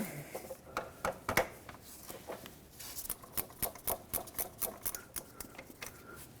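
A ratchet with a 10mm socket loosens a power steering line bracket bolt on a 2003-2008 Toyota Corolla, giving a close, fairly quiet run of sharp clicks in a rough, uneven rhythm that settles into a steadier pattern.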